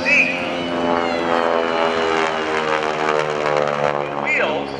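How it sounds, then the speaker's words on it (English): A T-6 Texan propeller plane flies at an airshow with a steady, loud droning engine and a sustained harmonic buzz throughout, fairly close, with an announcer's voice faintly mixed under it. "All right, let's watch Bill, the landing gear on the Texan, fold up into the fuselage."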